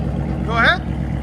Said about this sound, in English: Now it's got a nice idle to it. It's loud. Here's idle.